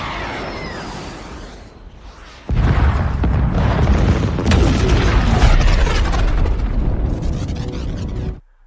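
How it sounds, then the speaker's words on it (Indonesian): A spaceship explodes after its warhead is shot in a film: a low whooshing buildup, then a sudden massive blast and a long roaring, crackling rumble that cuts off abruptly. "menembak hulu ledak tersebut yang membuat pesawatnya meledak"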